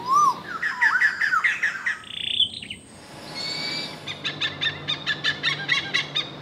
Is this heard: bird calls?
yes